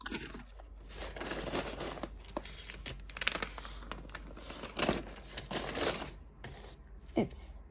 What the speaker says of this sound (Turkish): Biz böyle balıklı paket açıyoruz